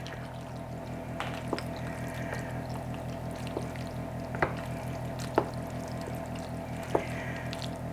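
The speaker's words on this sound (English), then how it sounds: "And just pour this all over the pasta" Beaten egg mixture with milk poured over pasta for a homemade macaroni pie, a soft continuous pour with wet squishy splashes and a few sharp clinks.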